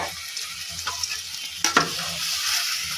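Tomatoes and a spice mix are stirred in a frying pan, giving a steady sizzle with spoon scrapes and a sharper clatter near the middle, close and with no talking.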